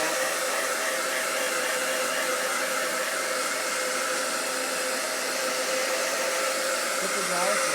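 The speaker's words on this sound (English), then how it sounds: "Put the dryer face up." A hair dryer blows steadily and loudly for the whole stretch, a constant broadband rush of air and motor with no break and no voices.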